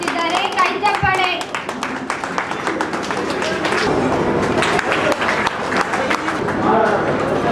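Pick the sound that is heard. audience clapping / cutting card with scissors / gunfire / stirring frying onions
audience clapping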